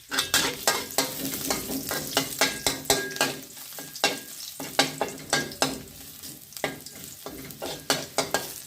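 Mama instant noodles stir-fried with mixed vegetables and garlic in a hot pan: a constant sizzle under repeated sharp scraping strokes of a spatula, close and rhythmic, with no voices.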